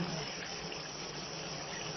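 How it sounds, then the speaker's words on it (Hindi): Water pours into a pan of sweet potato kofta curry gravy, giving a steady soft gush and splash throughout, with no talk. "इसके अंदर थोड़ा पानी डालती हूँ मैं जी"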